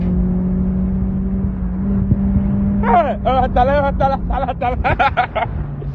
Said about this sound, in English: Vin Diesel of East Legon, drifting and changing gears like a mad person